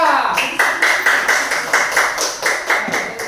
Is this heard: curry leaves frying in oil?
no